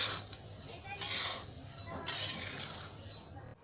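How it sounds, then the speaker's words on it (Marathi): Horse gram seeds roasting in a dry pan give soft, scattered crackles and clinks in two brighter bursts over a steady low hum, close and fairly quiet, with no voice. "म्हणजे कसा कटकट आवाज येतो."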